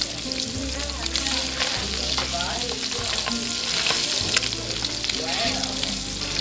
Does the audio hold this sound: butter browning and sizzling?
yes